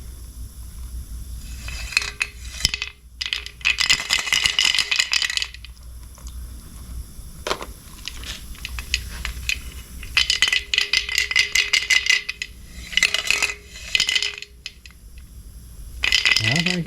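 Two marbles rattling inside a Rust-oleum Turbo spray can, loud clattering bursts of rapid metallic clicks separated by brief lulls, close up and repeated several times.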